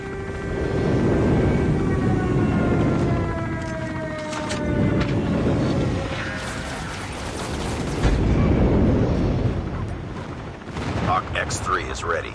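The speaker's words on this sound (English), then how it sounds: "Friendly airstrike incoming." Airstrike explosions and aircraft in the Call of Duty Mobile drop zone mode: repeated deep booming blasts and rumbles roll through the clip, with descending whines of passing aircraft, and announcer voice lines over them.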